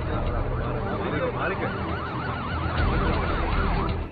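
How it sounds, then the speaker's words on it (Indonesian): An ambulance siren wails with a steady rising-and-falling warble, loud and continuous over rumbling background noise. "sebuah mobil ambulan membawa Angel tanpa persetujuannya"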